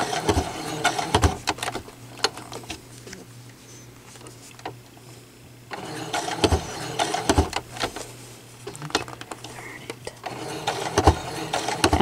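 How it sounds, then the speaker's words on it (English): A sewing machine stitches a fabric bowl cozy in stop-and-start bursts of rapid mechanical clatter, close by, pausing briefly mid-way before running again with short irregular runs. "I'm making sure I don't sew over my pin."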